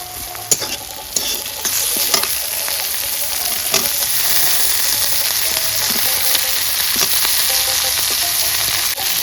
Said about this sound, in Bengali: পেঁয়াজ রসুনটা লাল লাল করে ভাজা হয়ে গেছে, এখন আমি কাঁচা লঙ্কা,